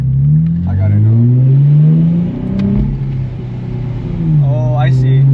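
A 2024 Nissan 400Z engine revs up and down in repeated swells while the driver works a light clutch, loud and close from inside the car, with people talking over the engine.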